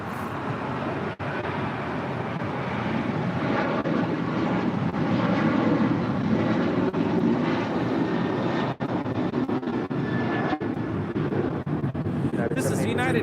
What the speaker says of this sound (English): This is United Airlines 783 departing to Washington Dulles on a 737-900 ER.